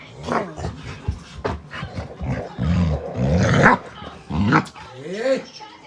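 Dogs fighting at close range, with loud overlapping growls, snarls and sharp barks in rough bursts, and a person's voice mixed in.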